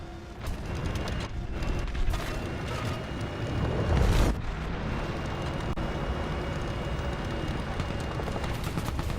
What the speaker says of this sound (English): I just heard a BMP fire from this direction